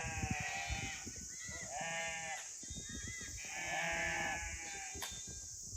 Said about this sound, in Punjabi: ਗੁਲਜਾਰੀ ਭੇਡਾਂ ਦੂਰ ਗਈਆਂ